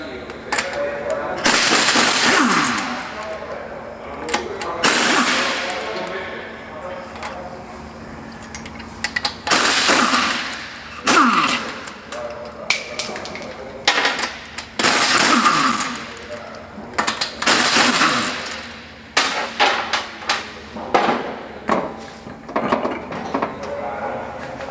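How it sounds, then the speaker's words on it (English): Wheel coming off a jacked-up Toyota 70 Series during hub work: repeated metallic clanks, knocks and rattles of tools and lug hardware in bursts, fairly close and loud, with workshop noise between. "my colleague now is going to remove the wheel."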